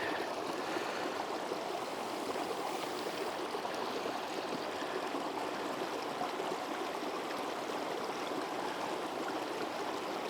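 Water runs out of a portable filtration system in a steady, continuous trickling flow, close and even throughout.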